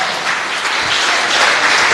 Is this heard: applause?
yes